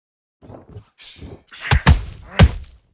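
A boxing counter punch lands during a pro bout, a sharp heavy thud followed by a second quick impact, loud and close, with crowd noise and a few scattered thumps around it.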